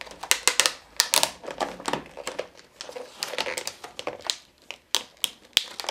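Crinkly plastic toy packaging being handled and snapped open via a pull piece, a dense burst of sharp crackles and pops, close and fairly loud.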